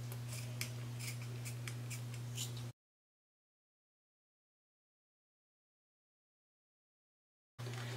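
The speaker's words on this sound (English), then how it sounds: "Let's get some better scissors." Scissors snip repeatedly in a quick, irregular rhythm over a steady low hum, close by, then silence before the hum briefly returns.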